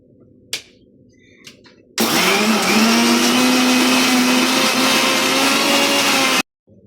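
A mixer grinder whirs loudly for about four seconds, crushing a coarse coconut spice paste with rock salt for an ivy gourd avial, after a couple of light knocks, then cuts off abruptly.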